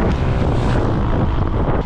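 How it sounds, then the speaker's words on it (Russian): Strong wind buffets the microphone during a triathlon bike leg in Baku, making a loud continuous roaring rumble that covers the whole moment. "ветерок хороший"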